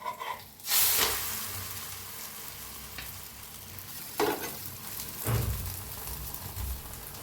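An egg paratha fries in oil on a pan, giving a steady close sizzle with louder bursts of crackle as it is flipped and pressed, no voices over it.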